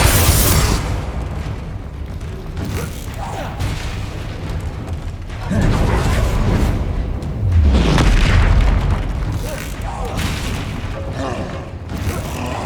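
Deep booming spell blasts from the Confringo fire spell in Hogwarts Legacy on PS5, several heavy explosions rising and rolling over about twelve seconds amid other combat noise.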